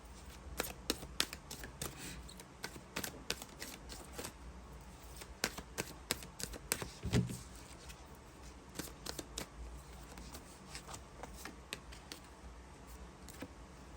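A deck of reading cards being shuffled by hand, a long run of quick papery riffles and snapping flicks, close and fairly quiet, in irregular bursts with a firmer thump near the middle.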